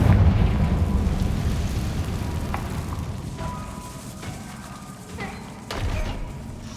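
A Confringo spell blast in Hogwarts Legacy erupts as a low, rumbling boom that slowly fades, with scattered creaks and crackles of debris and a smaller thump near the end; no clear speech.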